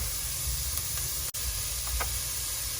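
Mung bean stew simmering in a pot gives off a steady, soft hiss with faint bubbling, constant throughout with a brief dropout partway.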